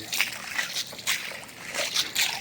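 Water sloshes in a hole cut through river ice while fishing for winter crucian carp on the Southern Bug, with a series of quick splashing surges coming close and at an irregular rhythm.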